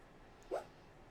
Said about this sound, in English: barking in her sleep